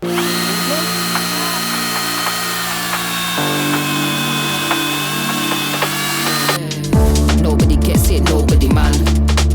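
A Grosser cordless chainsaw cuts wooden logs, running with a steady high motor whine that drops in pitch as the load changes, then switching to rougher, louder bursts of ragged cutting noise near the end.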